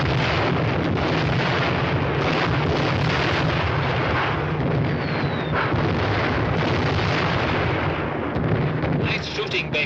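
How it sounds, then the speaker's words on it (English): Gunfire and explosions from a WWII air-combat scene in the 1941 film A Yank in the RAF form a dense, continuous roar of booming blasts and rapid fire, loud and sustained for nearly ten seconds. "Nice shooting, Baker."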